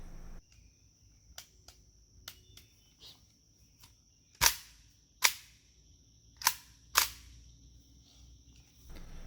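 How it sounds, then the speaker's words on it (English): AK rifle bolt cycling 5.45 rounds from a 45-round magazine with feeding problems: several sharp metallic clacks and a few lighter clicks spaced irregularly, over a steady high insect-like background whine. "Here we're having problems passing the feed lips with the bolt."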